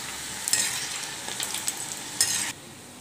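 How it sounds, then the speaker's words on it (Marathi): Crisp wheat flour kapanya pieces frying in hot oil over a slow flame, a close bubbling sizzle with a few stirring clinks, ending abruptly. "एकदम स्लो फ्लेमवर छानपैकी क्रिस्पी तळून घेऊया"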